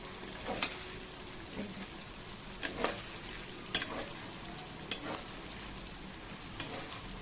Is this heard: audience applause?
no